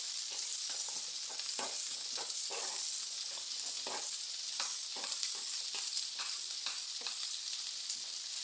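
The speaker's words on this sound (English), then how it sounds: "We're going to fry the onions until they are golden brown." Onions fry in oil with a bright, constant hiss, broken by repeated scraping clicks as they're stirred around the pan.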